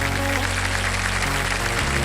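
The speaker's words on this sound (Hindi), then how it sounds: "तो चलिए जोरदार तालियों के साथ स्वागत कीजिए" A studio audience at a Wheel of Fortune celebrity show claps loudly and densely to welcome celebrity guests, with sustained show music underneath.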